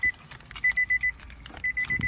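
Smart-key door locks on a 2013 Nissan Altima Sedan cycling, short sharp electronic chirps in two quick bursts of several beeps each, with faint mechanical clunks of the locks between, close by and without talk.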